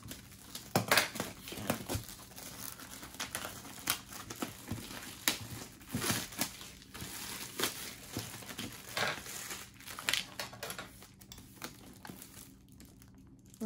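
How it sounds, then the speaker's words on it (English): A large plastic bag holding 2000 oxygen absorbers is cut open and handled, giving steady crinkling and rustling plastic with scattered sharper crackles close by, and no talking. "So the next thing I'm going to do is cut this bag open."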